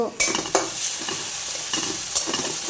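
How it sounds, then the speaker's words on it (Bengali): Garlic frying in oil in a pan for a potato and yardlong bean curry with jackfruit seeds, a steady close sizzle broken by several scraping stirs of a spoon, no voices. "রসুনটা মোটামুটি একটু তেলের সাথে ভাজা হয়ে গেল"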